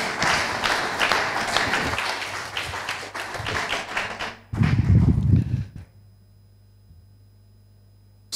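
A church congregation applauding during a worship service, with dense, loud clapping sustained for several seconds, then a heavier thumping burst before it drops away to near quiet.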